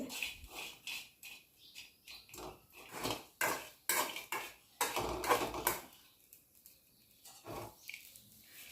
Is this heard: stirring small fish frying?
yes